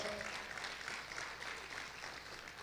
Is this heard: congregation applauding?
yes